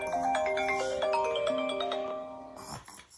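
A mobile phone ringtone plays a bright, melodic electronic tune of sustained tones at close range, loud and continuous for about two and a half seconds before it cuts off abruptly.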